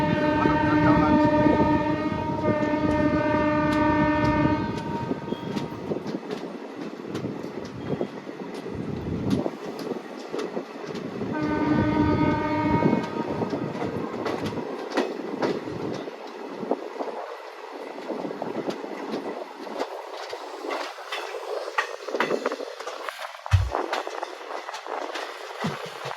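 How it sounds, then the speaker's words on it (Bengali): The Kanchankanya Express passenger train runs on rails in Bihar near Kishanganj, its horn sounding twice in long blasts over a continuous loud rumble of wheels and carriages, with rattling clatter as it rolls on. "ট্রেন এখন এসে পৌঁছেছে বিহারের কিষানগঞ্জে"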